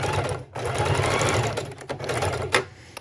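A heavy-duty sewing machine stitches paper tags in rapid continuous bursts with brief pauses between runs, close and clear with no talking.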